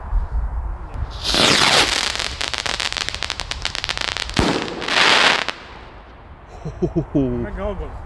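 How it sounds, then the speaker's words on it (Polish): Firework rockets launch in a loud volley with whooshing hisses and rapid crackling bursts, then a sharp bang, another rising whoosh, and a voice speaking briefly at the end. "Rakiety idą teraz, widzowie."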